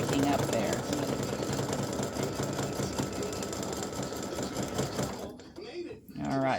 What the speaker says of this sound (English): going over the satin stitching, what little bit there is on the loop and on the tree.